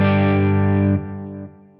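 A single strummed electric guitar chord played through a Line 6 Helix with delay and reverb and no compressor rings out loud and full, then is cut off, leaving a short fading tail of delay repeats and reverb.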